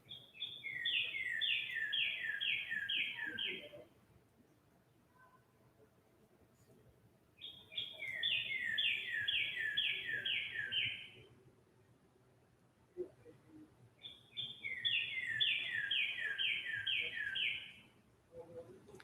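Songbirds in a wooded setting sing in three bursts of rapid, repeated high chirping phrases, each a few seconds long, with quiet gaps between them and a faint low background hum.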